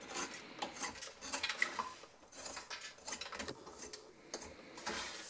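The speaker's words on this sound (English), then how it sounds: "just trim off the really dark pastry and get a nice edge" A knife trimming the dark, overbaked edge off a hot baked custard tart pastry, quiet irregular scraping and crisp crumbling taps, close but faint, with no talking.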